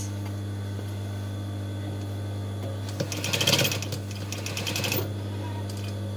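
A sewing machine stitches a cotton fabric face mask in one short, quiet run of rapid needle clatter lasting about two seconds, set against a steady background hum.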